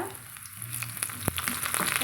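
Small onions sizzle and crackle in hot oil with popped mustard seeds, a steady frying hiss with occasional sharper pops and a stir.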